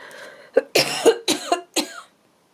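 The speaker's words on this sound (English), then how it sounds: "I do have quite a nasty cough." A person coughs several times in quick succession, harsh and close, with a short burst of voice at the start.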